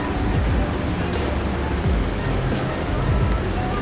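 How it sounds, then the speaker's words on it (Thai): Steady rain pours down at an outdoor hotel swimming pool in Bangkok, a dense, even hiss of drops hitting the water and surrounding surfaces that continues without a break. "ฝนตกนะครับผม ตอนนี้ก็อยู่ที่สระว่ายน้ำนะครับ"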